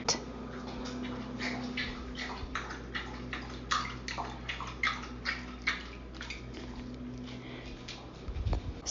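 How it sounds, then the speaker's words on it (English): A dog laps water from a bowl in steady, quick wet clicks over several seconds, close by, against a low background hum with a short rustle near the end. "She's drinking water."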